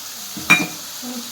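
Green garlic, peas and pigeon peas drop into a hot pan while a green turmeric curry cooks, giving one short, close clatter and hiss against a quiet kitchen background.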